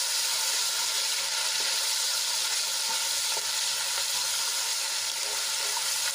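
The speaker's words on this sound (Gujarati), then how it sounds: "આદુ લસણ અને મરચાની પેસ્ટને આપણે સાંતળી લઈશું" Ginger, garlic and green chili paste, with a few curry leaves, sautés in hot oil for a Gujarati vegetable dish, giving an even, close, unbroken sizzle with no talking.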